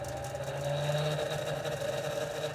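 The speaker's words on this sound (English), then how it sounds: "the world's first low-noise vacuum air raid siren" A 3D-printed low-noise vacuum air raid siren runs as a steady, droning whir with a sustained low hum and faint tonal whine, moderately loud and even throughout the short stretch, with no talking.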